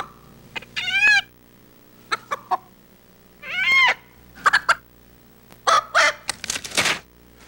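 Chicken clucking in a Carl's Jr. fast-food commercial, a series of short bursty squawks and clucks spread across the stretch with brief pauses, fairly close and clear, with no talking.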